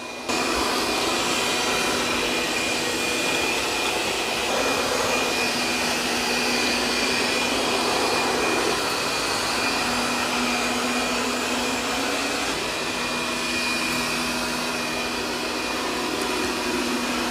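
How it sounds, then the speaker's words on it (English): A Tikom L9000 robot vacuum and mop cleans the floor nearby, its loud, steady motor and suction roar with a high whine holding constant throughout, no voices. "It's vacuuming up everything really good."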